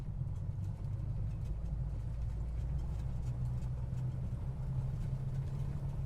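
Simulated engine of an L-19 Birddog light plane in Microsoft Flight Simulator 2020, a steady, loud low propeller drone that holds evenly throughout with little change in pitch.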